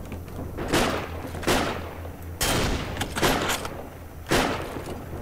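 Video game gunfire rings out in a church battle, several loud sharp bursts spaced irregularly over a few seconds, each followed by a short decaying echo.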